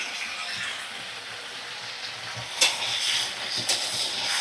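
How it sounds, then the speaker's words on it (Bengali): Winter beans frying in a pan with a pinch of turmeric and a halved green chili, a steady close sizzle broken by a couple of sharp scraping stirs near the end. "তো দেখো সুন্দর করে আমি নাড়াচাড়া করে নিচ্ছি।"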